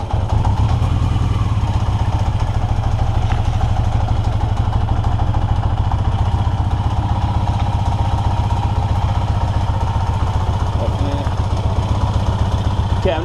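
A 1982 Yamaha XJ650 motorcycle engine runs at a steady, rapid, thumping idle close by, with light mechanical clatter as the clutch is worked and a brief faint voice.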